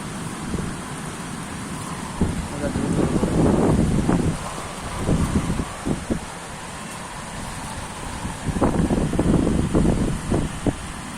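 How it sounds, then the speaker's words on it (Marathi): Rain falling during a stormy spell with gusting wind, a steady wash of drops under bursts of louder rumbling and buffeting that swell and fade across the stretch, with no voices. "या वादळाबरोबर हवेबरोबर वाऱ्याबरोबर आपण पावसाचं स्वागत करूया"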